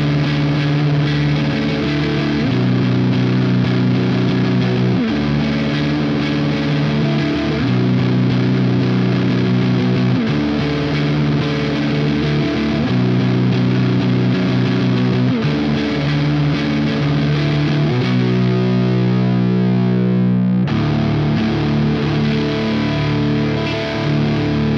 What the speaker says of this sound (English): the Rat still sounds amazing in various styles of music